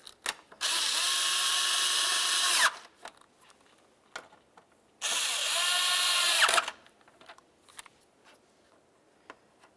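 A power tool runs the bolts into a 2012-2017 Toyota Camry radiator in two long, steady whirring bursts of a few seconds each, separated by a short pause, with faint clicks and handling noises between them.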